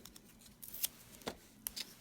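Scissors trimming card-making paper, a few quiet, crisp snips spaced unevenly across a couple of seconds, close and otherwise silent.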